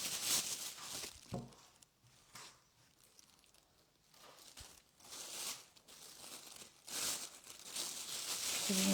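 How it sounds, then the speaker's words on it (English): A plastic bag crinkles and rustles in several short bursts while oars are stencil-painted with coastal decor, close by with quiet gaps between handlings and no talking. "Put it in a plastic bag so it doesn't dry out."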